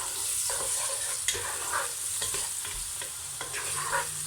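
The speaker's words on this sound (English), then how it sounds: "You'll see this normally takes 5 to 6 minutes to kind of brown your onions, guys." Onions browning in a single pot for aloo gobi curry, a soft, low sizzle broken by a few spoon-stirring scrapes and taps, heard close but quiet with no voices.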